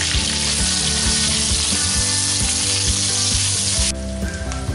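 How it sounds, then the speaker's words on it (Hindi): Onion fries in oil for Karela Gosht, a mutton and bitter gourd curry, with a loud continuous sizzle and occasional stirring clicks close by, and no voices. "मैं इसी ऑयल में एक प्याज बड़े साइज़ का या फिर 2 छोटे साइज़ के अगर प्याज हो वो ऐड कर दूंगी और इसको भी हल्का सा फ्राई कर दूंगी"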